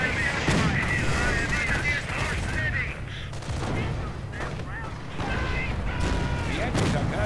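Rocket artillery fire from a Nebelwerfer during a WWII strategy game battle: a dense, continuous barrage of gunfire and blasts runs loud and steady throughout, with sharper bursts standing out.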